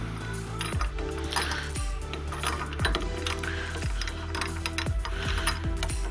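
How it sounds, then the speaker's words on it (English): Ratcheting spanner tightening the nuts and bolts on a Portamix motor mount while fitting an Ergo Handle bracket, with repeated close, loud clicking strokes and occasional metallic clinks in steady bursts. "Once you've tightened the two nuts with the spanner"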